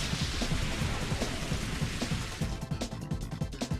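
Rain weather effect in the Pokémon XD: Gale of Darkness video game, a dense, continuous hiss of falling rain with low rumbling underneath, steady and loud throughout, no voices.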